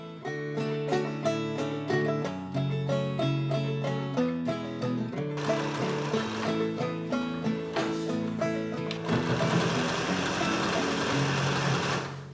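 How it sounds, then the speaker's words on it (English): A sewing machine stitches a row along a dress sleeve, its motor running steadily and close by for the whole stretch, with no talking. "I add one more row of stitching a ½ inch above the first one"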